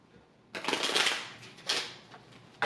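A quick hand shuffle of the trigram deck from the I Ching Cards of Destiny card game, two close, crisp bursts of riffling cards following a brief quiet start.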